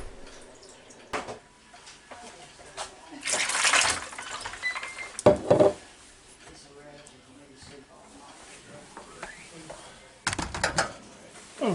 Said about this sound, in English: so I'm going to start putting water in this bowl